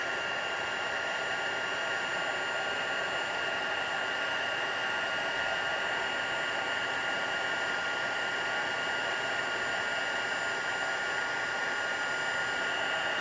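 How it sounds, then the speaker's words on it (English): Heat tool melting embossing powder on a stamped card, giving a steady, even airy whoosh that blows without a break throughout, close and moderately loud with no talking. "I love to heat emboss. It's one of my favorite techniques to use."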